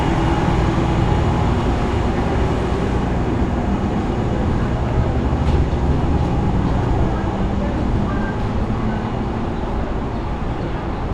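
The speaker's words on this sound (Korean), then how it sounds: "다시 지하철로 이동해서 내려가 볼게요" A Toronto subway train at a station, a broad steady rumble and roar filling the platform at high level, with faint voices in the background.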